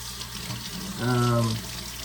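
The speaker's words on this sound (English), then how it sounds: "I gotta wash my peaches real quick" Tap water runs over fresh peaches being washed in a kitchen sink, a steady hiss heard throughout with a brief voiced hum in the middle.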